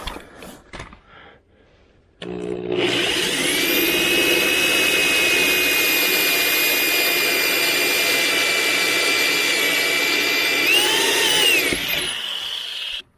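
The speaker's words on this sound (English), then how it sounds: "You got to use a 2-inch hole saw. So I'm going to cut a hole in here." A 2-inch hole saw on a power drill cuts a hole near a Chevrolet Colorado: a steady, loud, high-pitched whine runs for about ten seconds, with a brief pitch wobble near the end before stopping.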